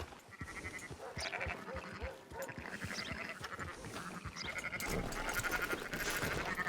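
Sheep bleating in the Western game Red Dead Redemption 2, several wavering bleats spread across the stretch over steady ambient game sound, fairly quiet overall.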